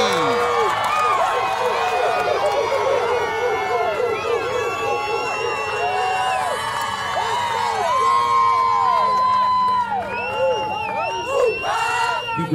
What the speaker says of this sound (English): How about a round of applause for Jericho Rojas?